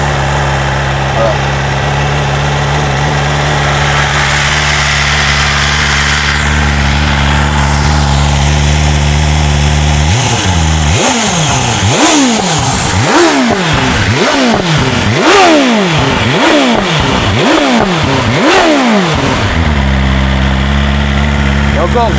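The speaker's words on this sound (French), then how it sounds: "comme ça vous entendrez la sonorité de la moto" A 2025 BMW M1000 R motorcycle with a road-legal Akrapovic exhaust idles loudly, then revs repeatedly in a series of sharp rising and falling blips, close and dominant.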